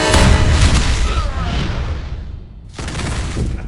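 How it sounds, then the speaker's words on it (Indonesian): Gunfire in a Jason Statham action movie scene: a loud, dense burst of shots and booms, a short drop, then another blast. "ia lebih dulu ditembak oleh Barney"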